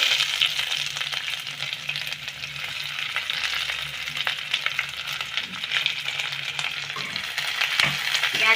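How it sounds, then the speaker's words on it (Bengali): Chopped onions fry in a pan after garlic, for chole bhature. A dense, continuous sizzle crackles close up for several seconds, with occasional light clinks of a utensil and no voices. "পেঁয়াজটাকেও আমি হালকা ভেজে নেব"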